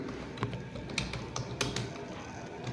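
Rapid, uneven keystrokes on a computer keyboard while entering text, close and crisp with short pauses between bursts of taps.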